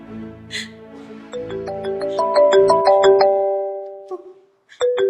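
A mobile phone ringtone plays a bright, rising electronic melody of repeated tones for several seconds, loud and close, ending in a brief pause before a voice is heard.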